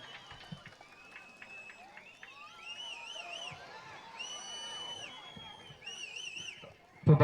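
A distant ambulance siren wails up and down through a murmuring outdoor crowd at a bull-taming event, rising and fading repeatedly before a sharp knock at the end.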